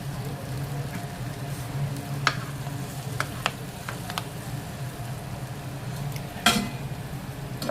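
Stuffed green chillies sauté in a pan with a steady, even sizzle, broken by a few spoon scrapes and clinks against the metal, close and alone with no talking.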